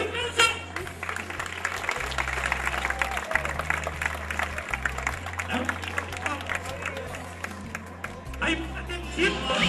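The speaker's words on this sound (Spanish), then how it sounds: "¡Un aplauso, puede ser!" Crowd applause and cheering at a Banfield football supporters' end-of-year party, a dense wash of clapping and crowd noise over a low, steady electronic hum, with voices and chatter mixed throughout.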